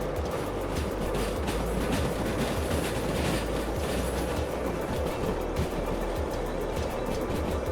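A heavy coal freight train rolls uphill in Derail Valley, a steady loud rumble with rhythmic clickety-clack of wheels over rail joints, continuous and close, with no talk.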